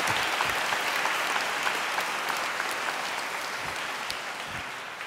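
Graduates at a university humanities and social sciences graduation ceremony applaud their family and friends, a steady, dense wash of hall-wide clapping sustained evenly throughout, no voices above it.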